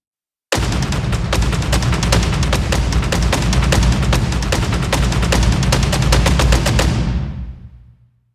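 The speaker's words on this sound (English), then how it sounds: "maybe you want to add this Epic Trailer Kit as more of a mid-range or top-end variation in your percussion sound" Epic trailer percussion from a sample library plays a rapid, relentless barrage of booming hits like automatic gunfire for about six seconds, then decays into a fading tail.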